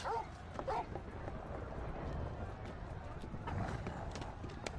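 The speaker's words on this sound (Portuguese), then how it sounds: "Que cachorrinho. Tá bem treinado." A dog in the video game Final Fantasy XVI gives a few short barks near the start, then a busy stretch of footsteps and hoof-like clopping with faint background activity.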